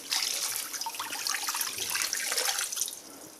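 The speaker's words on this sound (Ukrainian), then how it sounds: "На цей кілограм цукру даємо літр водички." Water pours steadily onto sugar for fudge, a liter onto a kilogram, making a close, continuous splashing gush that lasts throughout and tapers slightly at the end.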